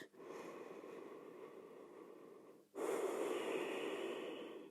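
Slow breathing during yoga crocodile pose, a long soft breath fading out, a short pause, then a stronger breathy exhale up close in a quiet room.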